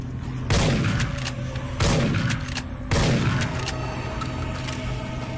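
Grenade blasts in the sci-fi shooter Dead Effect: three loud, sharp detonations spaced about a second apart, each followed by a rumbling decay over constant background game noise.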